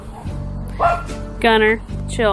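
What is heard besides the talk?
dog barking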